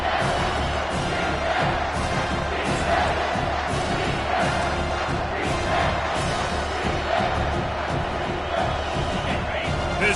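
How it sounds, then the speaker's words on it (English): A stadium crowd at a college football game roars steadily for ten seconds, a loud dense wall of cheering and yelling, with a commentator's voice faintly underneath. "This crowd rising up, sensing that its defense needs some help."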